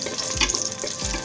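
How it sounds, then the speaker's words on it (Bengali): Raisins, cinnamon and cardamom fry in hot oil in a pan for a sweet rice dish, giving a steady close sizzle with two soft scraping stirs. "অনবরত নেড়েচেড়ে নিতে হবে, কারণ কিশমিশটা তেলে তাড়াতাড়ি পুড়ে যায়।"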